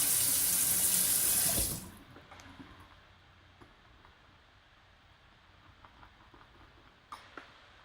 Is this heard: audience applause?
no